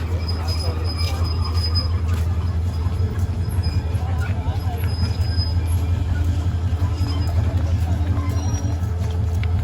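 The Meghna Express passenger train runs from Chandpur to Chattogram in Bangladesh, a steady low rumble of wheels on track with intermittent high metallic squeals and a faint murmur of people aboard.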